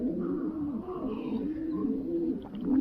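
Racing pigeons coo in a steady, continuous low warble, close and unbroken across the whole stretch, with no talking.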